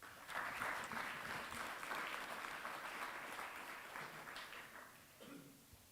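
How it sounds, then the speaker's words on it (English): An audience claps steadily in a sustained burst of applause for a keynote address at an arbitration conference, gradually tapering off, fairly distant and faint in a large room. "big round of applause"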